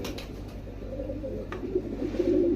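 Pigeons in a loft coo softly and repeatedly, a low, rolling murmur rising slightly toward the end, with a couple of faint clicks from the birds near the start.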